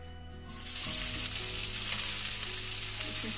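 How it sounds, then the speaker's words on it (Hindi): Vegetables hitting a little hot oil in a kadhai burst into a loud, steady sizzle that holds on continuously and close by, with faint stirring scrapes underneath; no talk. "अब ये हम पीसेंगे और ये हम कढ़ाई चढ़ाने जा रहे हैं, ये हम फ्राई करेंगे।"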